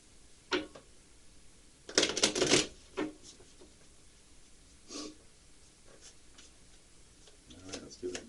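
Tarot cards being shuffled by hand: scattered soft riffles and taps, with a denser flurry of shuffling in the middle, fairly close and quiet between bursts.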